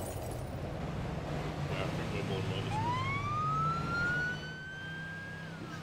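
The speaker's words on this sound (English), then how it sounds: "The police car go first." A police car siren in a video game rises into a steady wail partway through and holds over a constant low engine drone and broadband noise, fairly prominent, then fades slightly near the end.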